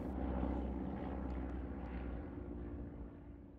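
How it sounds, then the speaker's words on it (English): Engine drone of a fighter plane flying rings around an RAF centenary flypast, a continuous low rumbling roar that slowly fades over a few seconds, with no voices. "With a fighter plane flying rings round us"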